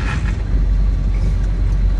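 An International truck's engine revving hard right after an early gear shift: a loud, close, steady low diesel rumble that holds without a break.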